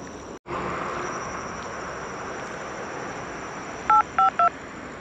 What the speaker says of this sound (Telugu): అర్జెంటుగా శ్యామ్కి అయితే ఫోన్ చేస్తాను